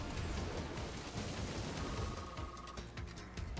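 Steady rain weather effect from the Pokemon Battle Revolution video game, a dense, continuous wash of falling rain at an even, fairly loud level with no voices.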